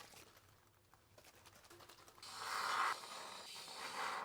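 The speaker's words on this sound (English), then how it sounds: "I'm going to use spray insulation to fill the gap" Expanding foam insulation sprays from a pressurized can into a gap in a home wall, a steady loud hiss starting midway and continuing to the end after quieter handling noises.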